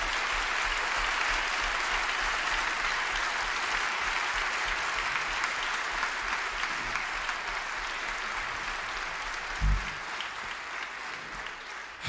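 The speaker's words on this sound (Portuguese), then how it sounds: "eu peço uma grande salva de palmas" A theatre audience at a one-man comedy show gives a long, sustained round of applause, dense and even clapping from a large crowd lasting well over ten seconds, loud and full, with a faint thump near the end.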